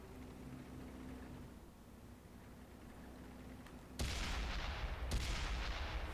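Artillery in a tank game featuring the M46 Patton goes off: a quiet rumbling stretch, then a sudden loud blast at about four seconds and a second sharp crack a second later.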